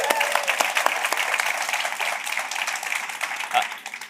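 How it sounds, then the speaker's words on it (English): An audience claps for a YouTube creator, a brief round of moderate applause that thins and fades out, with a voice talking faintly over it. "So give him a round of applause."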